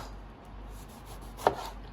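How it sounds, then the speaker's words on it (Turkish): A knife chops vegetables finely on a board for Antep-style ezme salad, giving one close, distinct chop against quiet background. "şimdi doğrama işlemine başlıyoruz"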